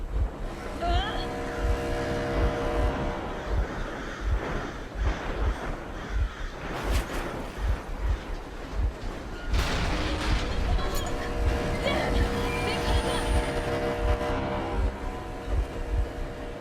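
A vehicle engine runs in the video game Metro Exodus, with a steady low throbbing rumble and rhythmic pulses under game sounds, plus several sharp loud bangs resembling gunfire and a voice speaking over parts.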